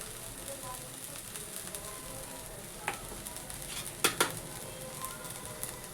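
An onion mixture is stir-fried in a pan after salt is added, giving a faint, soft sizzle with a few sharp scraping clicks from stirring near the end.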